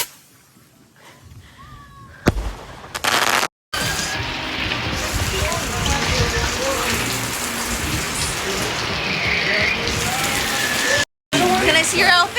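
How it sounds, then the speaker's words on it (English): Steady rain pours down outdoors at a Fourth of July birthday gathering, a dense continuous patter with brief interruptions and voices talking and calling out over it. "Hey guys, it's raining."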